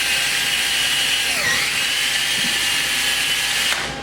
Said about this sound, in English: Let's go ahead and ream out this hole.